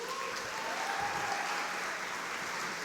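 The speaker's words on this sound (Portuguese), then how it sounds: "aplauda Jesus pela vida deles." A church congregation standing to applaud, producing a full, sustained roar of clapping that fills the room evenly for a few seconds.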